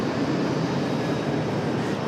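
An Airbus A321 on the runway gives off a steady, broad jet-engine roar, constant and moderately loud with no voices over it.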